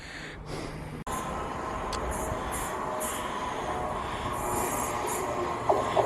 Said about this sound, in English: And there might be a freight train as well.